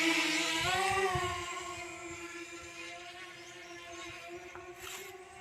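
DJI Mavic Mini drone lifting off and flying, a steady high-pitched propeller whine with strong harmonics that stays close and loud, rising slightly in pitch early on, then easing a little and holding steady.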